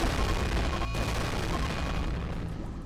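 Massive bomb blast in the video game RimWorld, a loud broad roaring rumble with a brief dip near the start that slowly fades, with no voices.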